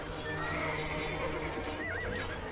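Horses neighing amid the clatter of an Age of Empires II battle, a video game, with a whinny rising over dense combat noise and hoofbeats, loud and continuous.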